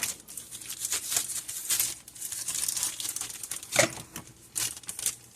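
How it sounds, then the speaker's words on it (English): Plastic bag of large marshmallows being snipped open at the top, crisp crinkling and cutting rustles in short bursts, close and fairly quiet with no talking. "Cut the top off my marshmallows."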